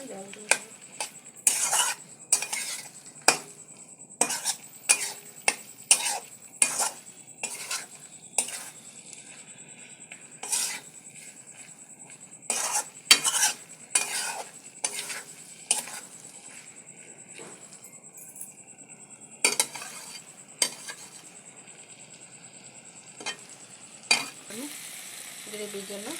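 Spices sautéing in a pan for taro curry while a spatula stirs, sharp metallic clinks and scrapes repeating in irregular bursts over a faint, steady sizzle.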